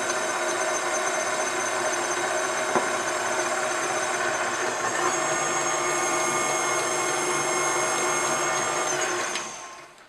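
An electric mixer slowly mixes cupcake batter for maple bacon cupcakes, a steady close whirring motor hum that runs evenly for about nine seconds before winding down.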